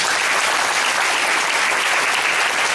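A church congregation at a Sunday service breaks into dense, steady applause, loud and continuous throughout with no pauses or voices over it.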